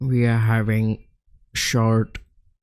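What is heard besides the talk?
No everyday noises stand out.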